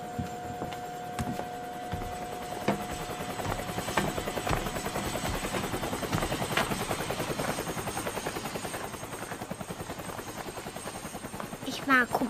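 A helicopter's rotor thrums continuously with a rapid beating pulse, steady and fairly loud, while voices talk faintly underneath.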